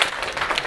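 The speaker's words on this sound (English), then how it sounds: "Clap for him." Brief burst of audience clapping at a design summit session, moderate and dense, lasting under a second.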